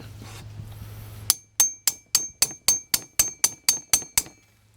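Wrench tightening a lock nut on a hydraulic fitting of a Wright Stander ZK mower wheel motor, with about eleven sharp metallic clicks in an even, quick rhythm, close and loud after a quiet hum.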